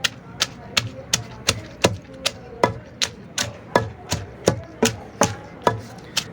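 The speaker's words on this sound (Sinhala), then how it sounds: "සුදු ලුණු ගෙඩියක් විතර දාලා මේක හොඳට කොටා ගන්න ඕන" Garlic is pounded in a mortar with about fifteen steady, evenly spaced thuds, close and clear, while the pounding keeps a firm, regular rhythm.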